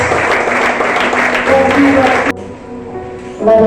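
Church congregation applauding at a Sunday service, a dense, loud wash of clapping with music tones underneath that drops away abruptly partway through, then swells back briefly at the end.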